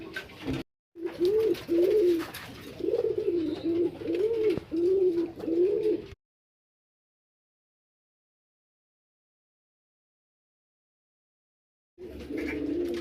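A caged racing pigeon coos in a repeated rhythmic series of soft low-pitched calls, close and clear, then falls silent before another coo begins near the end.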